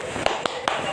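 Three sharp claps spaced at an uneven beat, demonstrating a rhythmic 'tepuk semangat' clap during a children's storytelling session, close and distinct over a steady room background.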